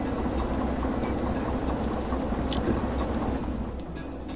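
A locomotive engine idles in a rail yard during shunting, giving off a steady, close, low mechanical rumble that holds an even level throughout, with no voices.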